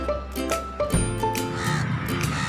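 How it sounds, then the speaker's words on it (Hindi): A crow caws over a lively children's song with music and singing, the harsh calls blending into the bright accompaniment. "शाख पे कौवा शोर मचाए"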